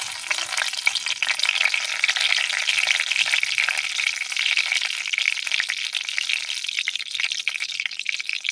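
A bay leaf torn into four pieces hits hot oil left from frying potatoes, setting off a steady, close crackling sizzle that runs evenly throughout with no one speaking.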